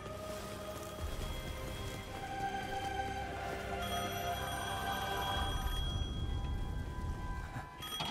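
An old telephone rings in the Devil May Cry 5 video game, a repeated ringing tone heard alone. Steady game ambience plays underneath it.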